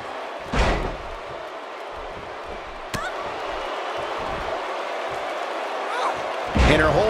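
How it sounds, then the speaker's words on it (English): A wrestler's body slams down onto the ring in the WWE 2K18 video game, one loud thud, then another sharp impact, and a heavier crash near the end, all over steady arena crowd noise. "And her whole body comes slamming down."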